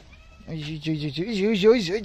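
A cat meowing at feeding time, several close, drawn-out wavering meows in quick succession, rising and bending in pitch.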